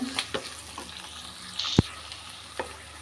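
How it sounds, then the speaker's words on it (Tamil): Onions sautéing in a pan for green field bean tamarind curry make a soft, continuous sizzle with scattered spoon taps and one sharp metallic clink. "வெங்காயம் வந்து நல்லா வதங்கி வரட்டும்"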